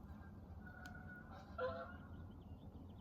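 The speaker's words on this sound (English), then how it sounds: "Those are 2 geese that fly over, and they are always boisterous" Two geese honk as they fly over outdoors, a few faint distant calls over a low steady background hum.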